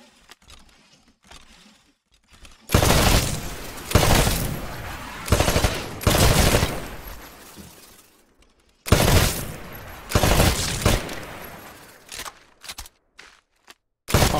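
Repeated bursts of rapid automatic gunfire from a first-person shooter's training shooting range, with loud rattling volleys separated by short pauses as targets are shot apart in Titanfall.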